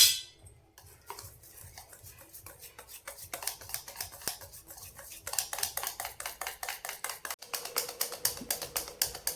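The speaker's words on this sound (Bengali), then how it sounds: "1 চুটকি খাওয়া সোডা দিয়ে আবার একটু ফেটিয়ে নেব।" Aloo chop batter with a pinch of baking soda being whisked, a steady run of quick rhythmic taps and clicks against the bowl, close and fairly loud, growing busier toward the end with no talking.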